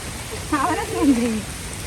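Rain falls in a steady, broad hiss throughout while a person speaks briefly in the middle.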